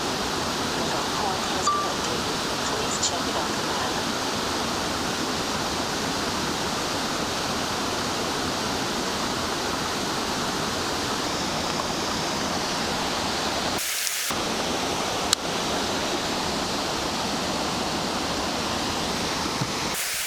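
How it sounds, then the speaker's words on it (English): A waterfall on Cyprus rushes in a continuous broad roar, close and steady for the whole stretch, with a couple of brief handling knocks near the end and no speech. "There's another waterfall."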